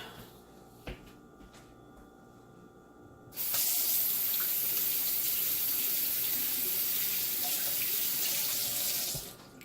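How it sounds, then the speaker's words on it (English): After a quiet room tone and a small knock, a tap opens and water gushes steadily into a sink, loud and close, then stops. "Excuse the water sounds."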